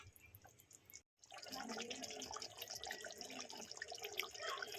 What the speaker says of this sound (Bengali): এবারে দিয়ে দেবো এর মধ্যে নারকেলের দুধটা